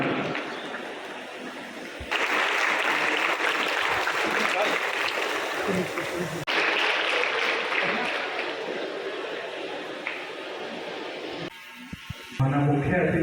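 An audience at a district collector's event claps loudly to welcome the guests, a dense, continuous applause that swells and holds for several seconds, with talk mixed in.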